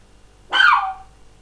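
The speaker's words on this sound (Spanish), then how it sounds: "El caniche ladra, disculpen." A poodle lets out a single sharp bark that trails into a brief whine, fairly close and clear against a quiet room.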